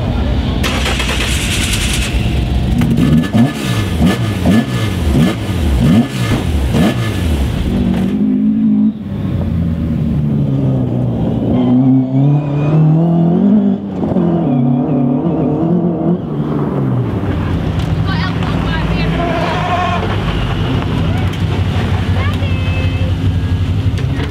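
Rally cars accelerate past one after another, loud engines climbing through the revs with rising, sweeping pitch and crackling exhaust, while voices talk over parts of it.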